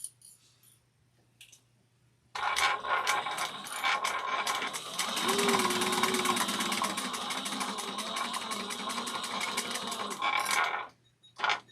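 Sewing machine stitching trim onto a bag at a quarter-inch seam allowance, a steady rapid mechanical rattle running about eight seconds after a quiet start, close and loud, then stopping.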